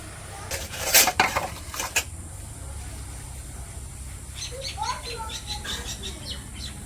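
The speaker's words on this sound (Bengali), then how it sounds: "কিছু থালবাটি হয়েছে সকালে ওগুলো একটু ধুয়ে নিতেছি" Dishes and pots being washed by hand in a Bangladeshi village home, a burst of clinking, clattering metal near the start, then quieter rinsing and light knocks over a low background hum.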